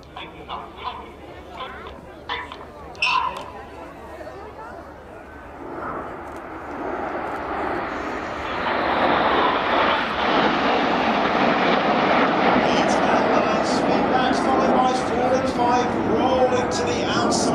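A Typhoon fighter jet at an airshow builds from distant rumble into a loud, sustained roar as it approaches and passes. A public-address commentator talks over the start.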